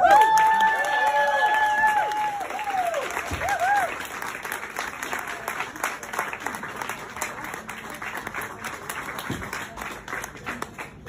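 A concert audience at an Estonian show by a band breaks into loud, sustained applause and cheering that fills most of the clip, with a voice speaking briefly at the start.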